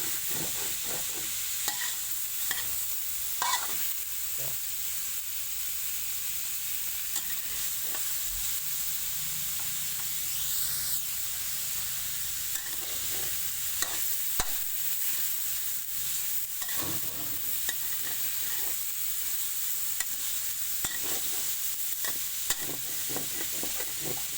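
Pork sizzles steadily in hot oil while being stir-fried, a continuous bright hiss broken by frequent scrapes and clacks of a utensil against the pan, with no talking.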